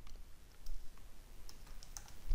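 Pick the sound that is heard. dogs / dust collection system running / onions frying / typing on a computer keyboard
typing on a computer keyboard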